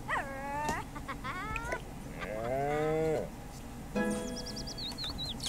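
A cow in a video game lets out several drawn-out moos, a longer low groan at the centre, with bird-like chirps near the end and a voice talking faintly beneath.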